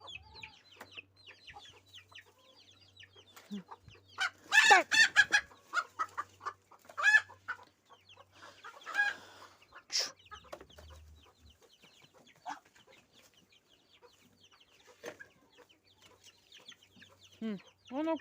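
Chickens cluck on and off at moderate distance, with scattered bird calls and bursts of farmyard commotion throughout.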